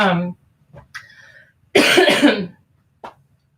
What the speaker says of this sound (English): my coughing is a little bit worse than I realized